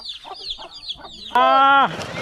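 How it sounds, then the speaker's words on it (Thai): Chicks peep in quick high chirps on a Lao village farm, then a loud, sustained rooster-like call rings out, with farmyard noise continuing after. "โอ้ลูกไก่"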